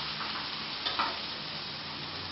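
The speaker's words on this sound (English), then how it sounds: "Now that I have my carrots sitting cheerfully on the frying pan" Carrots frying and being stirred in a frying pan give a steady, soft sizzle with a few brief scraping stirs, close and alone at a low level.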